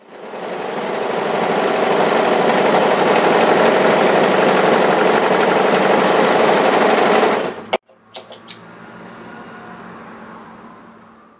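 Serger overlocking a long curved outside edge of an apron dress, a loud continuous close whir for most of the stretch, then a sudden stop and a few clicks.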